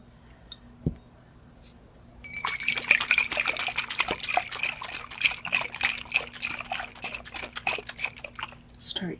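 Salt water poured for a ritual, a steady trickling, splashing stream starting after a quiet moment and running on close and clear, with no talking over it.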